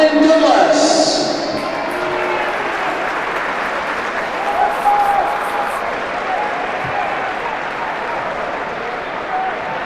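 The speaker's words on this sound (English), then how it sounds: "He is with us today, so come have a very, very big clap" A stadium crowd at a charity legends football match between Doncaster Rovers and Sheffield Wednesday applauds loudly and steadily, with an announcer's voice heard briefly over the clapping at the start.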